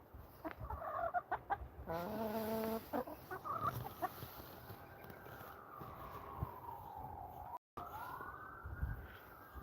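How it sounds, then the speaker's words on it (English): A long wailing siren from a nearby police and fire station rises and falls in the background, while chickens cluck loudly up close over it. "Don't mind the sirens."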